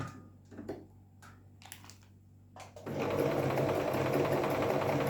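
A Singer Promise 1412 sewing machine stitches a blind hem zigzag, starting with a few short bursts of mechanical clicking before settling into a loud, continuous rapid whir close by.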